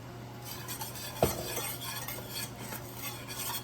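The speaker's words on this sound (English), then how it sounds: "you just want to stir until that butter is nice and melted" A utensil stirs melted butter and vanilla in a pan, giving soft continuous scraping with one brief clink of metal. It sounds quiet and close, with no talk.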